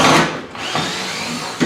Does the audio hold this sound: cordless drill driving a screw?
yes